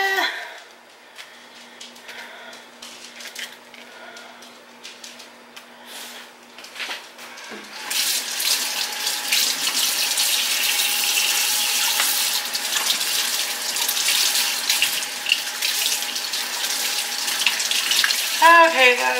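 Quiet handling noises give way to a tap turned on, water gushing steadily and loudly into a sink for the rest of the clip.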